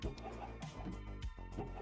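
Video game chickens cluck in quick, soft bursts, a quiet scatter of clucks with faint voices mixed in.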